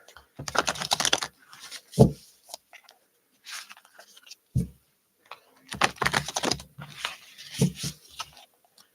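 Tarot cards being shuffled in several quick riffling bursts, crisp and close, separated by short pauses and a couple of soft thumps.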